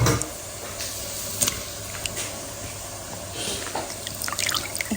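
Tap water runs steadily while small cut pieces of beef are rinsed for a bhuna curry, with soft drips and splashes over a continuous faint trickle, no talking.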